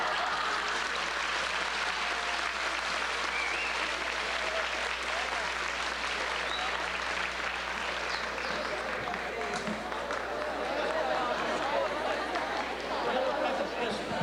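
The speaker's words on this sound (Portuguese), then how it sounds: "Ela está dizendo que só as mulheres aplaudiram." Audience applause from a crowd at an Augusto Boal theater session in Diadema, with only the women clapping: a dense, continuous patter of hands that holds steady throughout, mixed with faint chatter.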